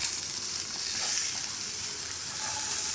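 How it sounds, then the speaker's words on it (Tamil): Small chopped beetroot pieces sizzle and fry steadily in a pan, a close, continuous bright hiss with faint stirring, no voices. "ஃப்ரை ஆகிட்டுருக்கு."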